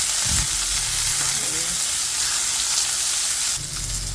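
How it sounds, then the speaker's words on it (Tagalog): Fish fry in hot oil in a pan, a loud, continuous close-up sizzle and hiss with a few soft knocks from handling the food. "Lagay tayo mantika. Lagay ng isa yung mga isda. Luto. Pagkatapos ay tustahin."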